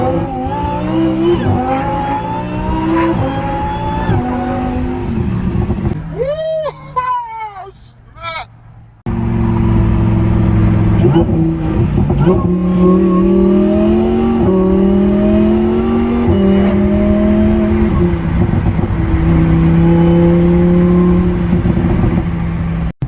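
A replica Lamborghini Huracan accelerates and takes corners, its engine note climbing and falling through loud, close revs with a brief lull midway. A voice talks over much of it.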